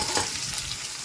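Small fish sizzling in hot oil with crisply fried chopped onions, a steady, close, loud crackle that runs unbroken with no voices.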